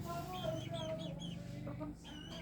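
Several Rhode Island Red chickens, two roosters and eight hens, clucking and squawking in a steady, busy chorus, with a rooster call mixed in, fairly close.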